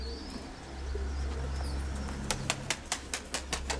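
Pigeons in a loft, including a grey bird, coo in low steady tones under a rural background, followed by a run of sharp rhythmic clicks or wing claps close by.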